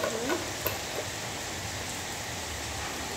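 Steady rain falls nearby in an even, hissing patter, with a few small knocks near the start and no one talking.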